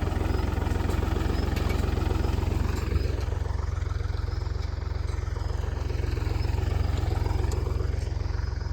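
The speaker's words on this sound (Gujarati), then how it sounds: "ટ્રેક્ટર પણ લાવ્યા છે પાળા બનાવવા સારું" A tractor engine idles steadily and loudly, a constant low rumble with no pauses throughout.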